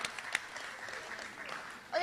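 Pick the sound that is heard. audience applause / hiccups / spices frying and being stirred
audience applause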